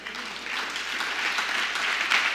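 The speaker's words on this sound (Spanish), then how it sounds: "Y déle un aplauso a Dios" A church congregation applauds during a sermon, a fairly soft, steady patter of many hands clapping, heard from a distance and gradually swelling slightly.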